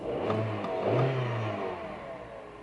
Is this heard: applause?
no